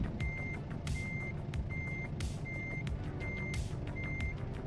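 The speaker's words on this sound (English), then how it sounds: "Need to get clear of that truck over there." A truck in a driving simulator game sounds its reversing alarm, a regular series of loud, evenly spaced beeps over a rumbling engine idle, with no talking.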